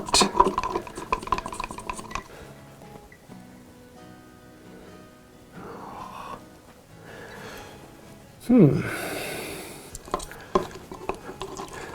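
Paint is stirred in a small container for a wooden Chinese checkers board: intermittent scraping and clinking strokes, close and moderately loud, with quieter pauses between bursts of mixing.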